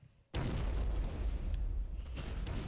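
Heavy gunfire and booming tank shots from the war video game Operation Flashpoint: Resistance burst in loud and close after a brief quiet, with repeated sharp reports over a constant low rumble.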